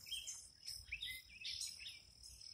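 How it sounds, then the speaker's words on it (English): Birds chirp and call outdoors in a quiet natural setting, with short, high, scattered notes repeating over faint background hiss and possible insect buzz. "you probably can hear the birds"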